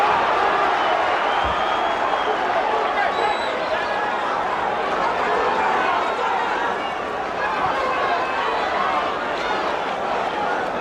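A boxing crowd roars steadily and densely throughout a bout between Mercer and Morrison as Mercer comes on the attack, a constant wash of cheering and hubbub with no breaks.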